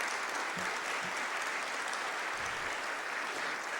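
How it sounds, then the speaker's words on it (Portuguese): Applause from the audience at a special session of a state legislative assembly, a steady wash of hand claps that is fairly faint and distant and lasts throughout. "Uma salva de palmas para vocês."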